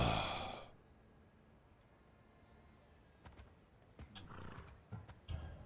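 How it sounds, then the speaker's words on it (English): A horse belonging to Hades in an Xbox adventure game, heard as a brief breathy snort up front, then a quiet stretch and a few soft hoof clops and whinny-like bursts near the end. "Little do you know that this is Hades' horse."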